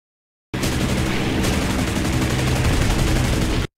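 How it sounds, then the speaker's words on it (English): Aircraft machine guns and cannons fire in continuous rapid bursts during a War Thunder air combat tutorial, a dense, loud, unbroken rattle lasting several seconds with no voices. "Your machine guns and cannons are perfect for hitting light targets with poor armor protection."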